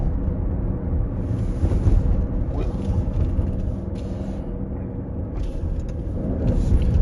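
A Maserati drives through slow city traffic while its drive modes are switched, with a steady low engine and road rumble inside the cabin.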